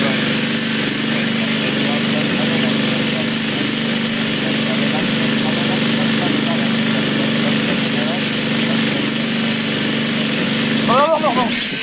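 A lawnmower engine in the Lakeview Cabin video game runs at a steady loud drone for the whole stretch, with a sharp burst near the end and someone talking over it.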